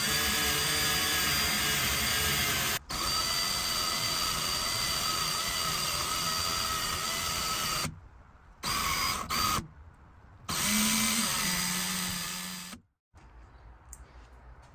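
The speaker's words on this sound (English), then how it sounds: "I'm going to wire brush these real quick." Power wire brush cleaning rusty brake parts on an FJ40 Land Cruiser during master cylinder work: a loud, steady high-pitched whirring drone that cuts out in several short gaps before stopping.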